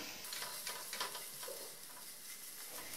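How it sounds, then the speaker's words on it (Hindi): Onion and garlic paste fry in a pan over low-medium heat while a utensil stirs it, giving a soft, steady sizzle with light scraping taps throughout. "जब तक प्याज और लहसुन भुना जा रहा है"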